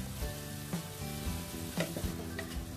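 Meat sizzling and frying in a pan for fried rice noodles, a steady hiss with several scraping stirs of a utensil, close and loud, with no talk.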